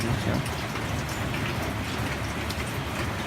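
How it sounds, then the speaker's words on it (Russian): Steady rain falling, a dense, close hiss of countless drops pattering on surfaces, continuous and even throughout with no voices. "Дождь."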